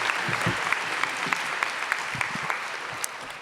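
A school auditorium audience gives steady applause: many hands clapping continuously at a moderate distance, with no one speaking.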